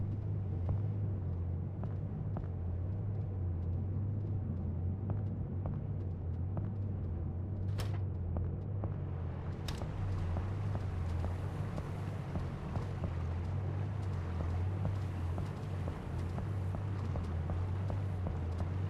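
A faulty boat engine runs in a video game, a steady low drone with a rhythmic knocking pulse that continues unbroken throughout, with a couple of sharp clicks partway through and no voices.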